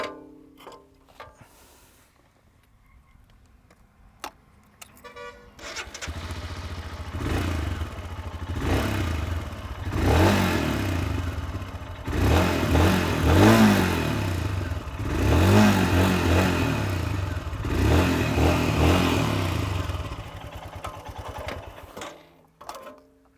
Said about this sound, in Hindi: हम इसे फायर करके आपको सुना देते हैं।